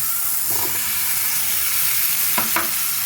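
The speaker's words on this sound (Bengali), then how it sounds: "দেখুন মশলাটা কষানো হয়ে গেছে, এখন আমি আলুগুলো দিয়ে দেবো" Fried potatoes go into a sizzling, well-cooked spice paste for a fish curry, giving a dense, loud hiss with a couple of brief clinks and scrapes of a spoon.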